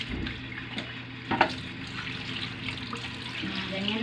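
Water runs steadily from a tap during a first bath for a kitten named Oreo, in lukewarm water, with a soft splash partway through, moderately quiet and continuous.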